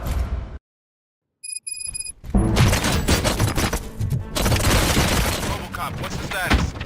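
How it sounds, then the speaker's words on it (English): Dense bursts of gunfire and explosions in the video game RoboCop: Rogue City, loud and continuous, with brief electronic beeps before the shooting starts. "Gunshots? What's going on?"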